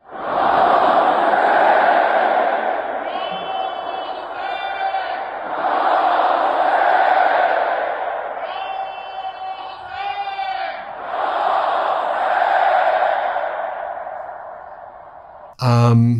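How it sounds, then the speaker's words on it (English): A large crowd chanting "Ya Hussein" in loud, rhythmic waves of massed voices, each chant swelling and repeating several times, with a short clipped sound at the very end. "You can hear the chants there, Ya Hussein."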